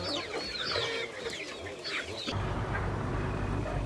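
Backyard hens cluck and squawk in short rising calls close by, several birds overlapping, then the calls give way to a steady low rumbling background near the end.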